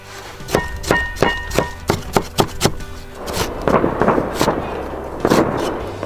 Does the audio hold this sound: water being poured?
no